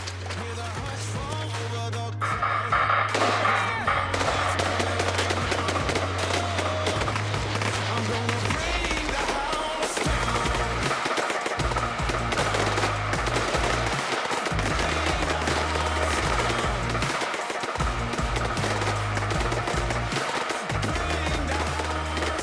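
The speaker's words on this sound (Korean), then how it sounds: "계속해서 도주하는 적에 대한 대퇴부 조준 사격 실시" Gunfire from an army reconnaissance battalion's live-fire shooting drill near the DMZ, loud rapid bursts and sharp repeated shots rattling on continuously at close range.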